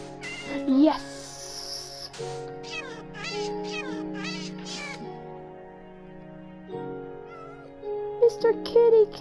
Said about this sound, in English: Where'd you go, Mr. Kitty Cat?